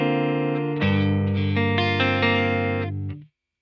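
An electric guitar plays a clean twin amp tone through a Kemper Profiler, strumming sustained chords that ring clearly, then stop abruptly into silence.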